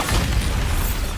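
A Bombarda blasting spell explodes in Hogwarts Legacy, a loud, deep, rumbling boom that fills the whole moment with heavy low-end force and a steady roar.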